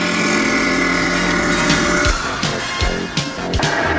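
Jadeite bangle with floating green flowers being sanded by a power tool, a loud steady grinding whir that breaks into uneven scraping bursts in the last two seconds.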